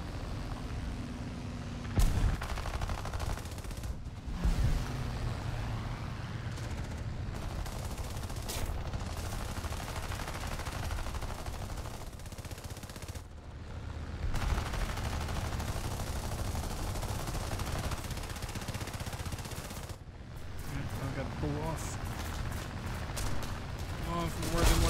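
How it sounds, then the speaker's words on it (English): Dense explosions and gunfire from a War Thunder air battle with British planes, constant booming and rattling bursts layered thickly throughout, with a person talking over the roar. "This is starting to look like a Michael Bay production with the amount of explosions in here."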